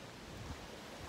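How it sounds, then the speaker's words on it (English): Steady outdoor wind rushes over the microphone as broadband noise, constant and fairly loud throughout with no talking, just an even gusty roar. "it's a little windy outside"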